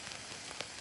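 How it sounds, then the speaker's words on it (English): Light summer rain patters on a tarp over a bivvy camp in a garden, a faint, even hiss with a few soft drop ticks. "there's a light summer rain. Probably hear it on the tarp."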